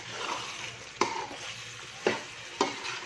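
Chicken kadai with chopped coriander and whole green chillies being stirred in a pan, with three sharp scraping strokes of the spoon over a low steady sizzle, no voices.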